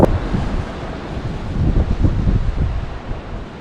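Sea waves washing ashore at Bracelet Bay in Mumbles, near the lighthouse, as the tide goes out: a steady, fairly loud surf wash mixed with wind buffeting the microphone, with no voices.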